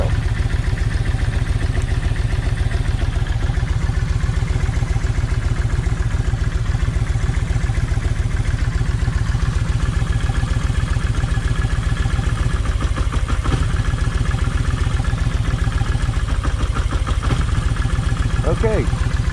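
A Kawasaki Vulcan 1600 motorcycle with a wet spark plug and a running problem, its engine idling loudly and close with a fast, even throbbing pulse and some clatter, continuous throughout.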